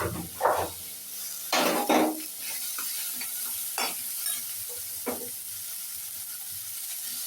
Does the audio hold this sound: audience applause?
no